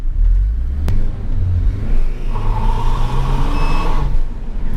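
An Opel Vectra 2.0 Turbo with tuned engine software pulls hard in second gear, its loud, close engine drone rising steadily in pitch from inside the car.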